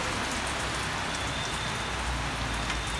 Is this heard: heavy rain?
yes